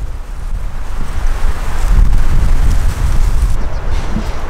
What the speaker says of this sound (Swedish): Som ni ser så blåser en hel del den här dagen.